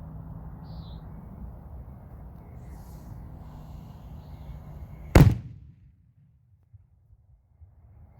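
A Superman salute firework shell detonates in one sharp, loud boom over low background rumble, followed by a quick decay and a few faint distant pops.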